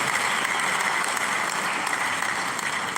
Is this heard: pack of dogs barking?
no